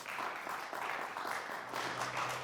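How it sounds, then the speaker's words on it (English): Studio crew members clap for a competing team on a quiz show. The small group gives a fairly faint, steady round of applause lasting a couple of seconds. "A round of applause for the Warriors."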